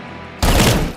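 A single loud, close gunshot rings out in Robocop Rogue City, a sudden blast after a brief quiet moment that decays over about half a second.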